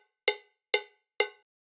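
Three evenly spaced cowbell hits from a click track set up in Logic, each a sharp, bright metallic strike with a quick decay, about half a second apart at steady tempo, clean and alone.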